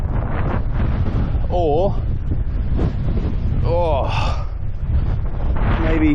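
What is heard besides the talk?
wind blowing on a muffled microphone on a cliff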